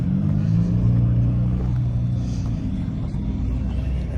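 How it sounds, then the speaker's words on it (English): Deep, steady rumble of an idling truck engine in a parking lot during a car meet, loud and continuous with low droning tones, with faint voices in the background. "this truck be making noise though, bro"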